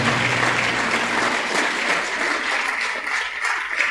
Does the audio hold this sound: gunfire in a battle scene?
no